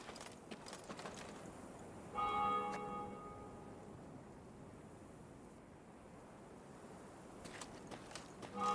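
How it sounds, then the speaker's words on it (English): Temple bells to Mother Melitele ring out in Thronebreaker: The Witcher Tales, a cluster of resonant, overlapping tolls sounding from some distance over a steady outdoor ambience, then fading slowly. "they heard the bells of a temple to Mother Melitele, situated at some distance"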